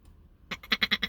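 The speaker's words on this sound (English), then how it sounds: "Who brought the goat to work?" A goat bleats in a quick run of five or six short, nasal pulses, close and fairly loud after a moment of near silence.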